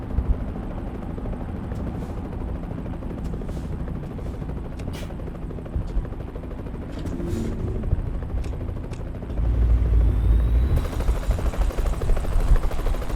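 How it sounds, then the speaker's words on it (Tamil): Helicopter flying in the truck-driving game American Truck Simulator, a steady rotor thrum under road and engine noise, swelling louder and closer near the end. "ஹெலிகாப்டர் சவுண்ட்லாம் கேட்குது கைஸ், எங்கே இருக்குன்னு தெரியல."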